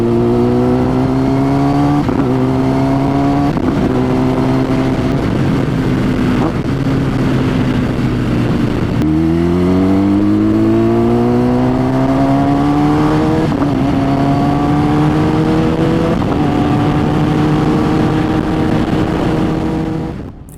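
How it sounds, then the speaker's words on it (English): Kawasaki Ninja ZX-10R sportbike with an Akrapovic exhaust running loud and close, engine note climbing and dropping in steps as it shifts through the gears, with pops and crackles at each change. "I found myself shifting the ZX-10R for no reason other than to listen to the pops and farts it produced when going through the gears"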